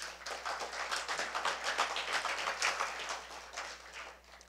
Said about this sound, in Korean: 부시장께도 박수 한번 보내주십시오